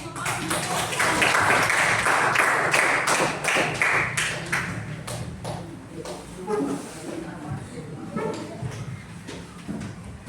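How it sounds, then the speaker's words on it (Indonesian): A classroom of students claps for several seconds, a dense patter of hand claps that thins out, with voices talking alongside. "Oke, aplaus dulu."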